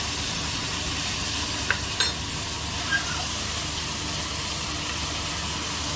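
Asparagus cooking in a pan gives a steady, gentle hiss of frying, with a few faint clicks or scrapes near the start. No one speaks.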